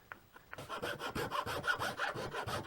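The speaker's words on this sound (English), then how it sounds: "And just start filing away at this rosewood." A file rasps back and forth across a rosewood guitar part being shaped. Close, dry scraping strokes repeat in a quick, even rhythm of about a dozen passes, with no voices.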